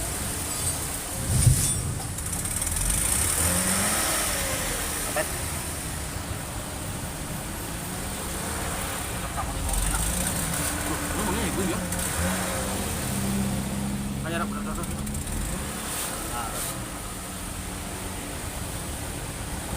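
Lexus GS 300 with a 3000cc engine from 2010 and its catalytic converter removed, idling and revving with a raspy, steady exhaust drone, nearby, while people talk around it.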